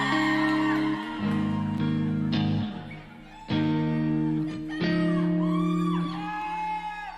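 A crowd at a charity benefit concert cheers, with several loud whoops and shouted yells rising in separate bursts over a softer background roar.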